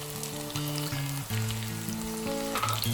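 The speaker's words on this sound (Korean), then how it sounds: "중간 불에 한 20초 정도 볶아준 다음 구워둔 가지와 양념장을 붓고" Eggplant and sauce stir-frying in a pan give a steady, close sizzle that runs under loud background music.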